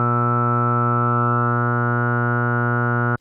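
Sustained synthesizer tone with filter modulation, a steady harmonic-rich drone that holds evenly and loud for about three seconds, its texture subtly wavering, then cuts off abruptly.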